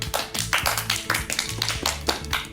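Applause for a performer at a concert show in Argentina's Gran Rex theatre: loud, close claps in an uneven rhythm over a low tonal background with faint musical tones.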